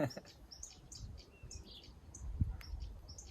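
Birds chirp and tweet in short scattered calls at a distance at a carp fishing spot, with a faint low rumble of outdoor ambience underneath.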